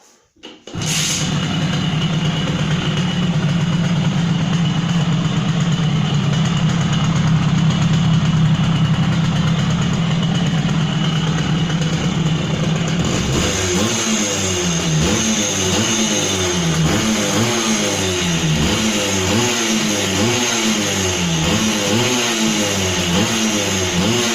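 A Simson S51 two-stroke moped engine, freshly rebuilt with CDI ignition, starts, idles steadily with a buzzy tone, then revs up and down repeatedly in quick bursts, close and loud.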